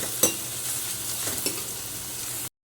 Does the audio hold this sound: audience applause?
no